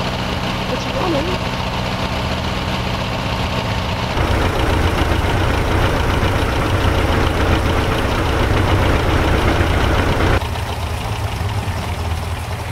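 Old abandoned tractor on a farm running at idle, a loud rough steady rumble with a knocking chug that swells louder for a few seconds before settling back, alone without talk.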